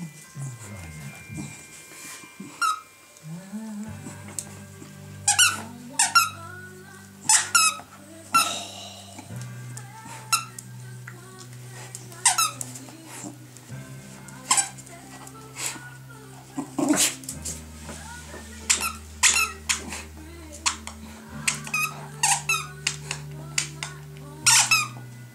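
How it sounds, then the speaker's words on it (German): A squeaky toy squeaks repeatedly in short bursts, mixed with dog whimpers and small yips from a West Highland White Terrier, while people talk and a low sustained tone hums underneath. "Der kann ja quietschen."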